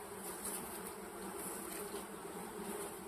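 Bees buzz steadily and continuously around an open hive frame, a dense close-up drone with high wingbeat whine, no voices.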